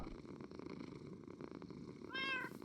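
A cat in Minecraft purrs in a low, steady rumble for a couple of seconds, then gives a short rising meow near the end.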